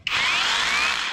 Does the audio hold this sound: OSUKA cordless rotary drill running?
yes